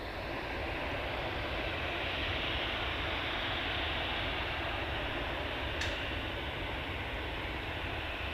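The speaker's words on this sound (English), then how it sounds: "Next departure is this EasyJet. It's off to Bilbao." An EasyJet airliner departing for Bilbao roars steadily through its takeoff run, a broad, constant jet-engine rumble that stays loud from start to finish with no talk over it.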